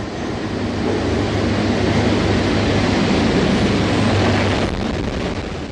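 A new air-conditioned 520-seat passenger train on the Colombo to Jaffna run gives a loud, steady rumble of rolling wheels with wind buffeting the microphone throughout and no talk.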